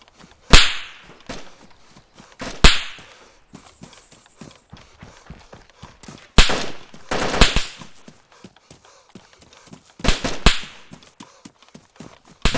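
Gunfire in the video game DayZ, loud sharp shots in scattered bursts and rapid volleys with quieter clicks and reports between them.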